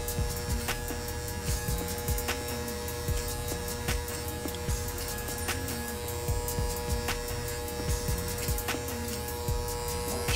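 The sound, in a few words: electric hair clippers with number 3 guard cutting hair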